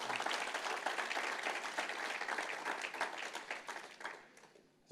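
A church congregation applauds in praise, dense steady clapping from many hands that holds for about four seconds before quickly thinning and fading out.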